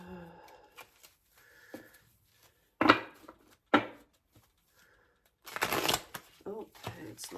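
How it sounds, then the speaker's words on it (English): Tarot cards are shuffled in several quick, crisp riffling bursts, close by and fairly loud. A voice talks between the bursts. "Oh, it's not shuffled properly."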